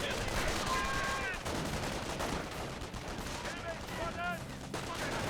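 Battle sounds from Company of Heroes, including a Panzer IV tank firing, with distant muffled gunfire and bursts over a constant rumbling din, and faint shouts in the background.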